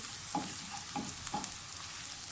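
Cumin seeds fry in hot oil in a pan for a cabbage dish, giving a faint, steady sizzle with a few soft taps of stirring.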